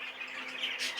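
A young cinnamon cobalt bird squawks in a shrill, continuous burst, close and fairly faint, with no other sounds around it.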